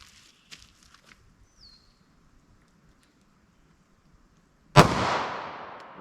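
A single sharp gunshot cracks out from a 3.2-inch barrel firing .40 S&W Federal Syntech Defense, then echoes and decays. It comes after a few seconds of quiet with faint small clicks and handling noises.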